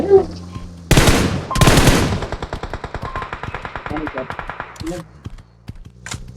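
Gunfire in the mobile battle royale game PUBG Mobile: two loud bursts of automatic fire followed by a long run of rapid single shots, close and sharp, with excited voices talking over it.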